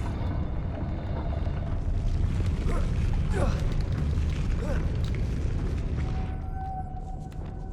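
A Confringo fire spell cast in Hogwarts Legacy bursts into a dense, rumbling boom with crackling fizz, sustained loud game effects lasting several seconds before easing off, with a voice speaking over it.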